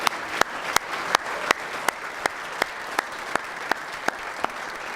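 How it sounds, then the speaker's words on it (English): Banquet audience applauding award winners at a university awards ceremony: sustained, even clapping from a large crowd, punctuated by sharp, regularly spaced louder claps near the microphone. "One more round of applause for all 6."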